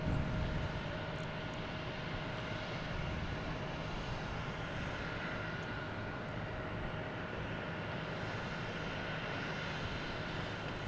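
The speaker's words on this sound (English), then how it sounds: "We have American Airlines here coming in, A321, flight 1048." An American Airlines A321 airliner on approach to Boston Logan produces a steady, broadband engine roar with faint whining tones, heard from a distance and holding constant throughout, with no voices.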